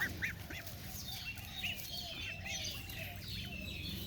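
Several young Chinese and Toulouse goslings, about one to two months old, peep and chirp in short, scattered calls over a steady low background hum, close by and fairly soft.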